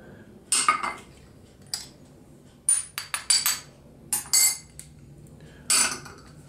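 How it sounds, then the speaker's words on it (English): Dry ingredients with ginger are mixed in a separate bowl, giving a series of sharp, close utensil clinks and scrapes against the bowl in irregular bursts, with no talking. "in a separate bowl, all we're going to do here is mix the dry ingredients"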